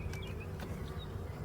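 Honeybees buzz at a hive in spring, a steady low drone of many wings with a few brief higher whines of individual bees passing close, faint and continuous.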